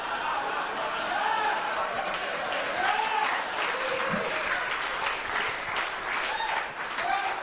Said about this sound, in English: Okay, some of you clapped.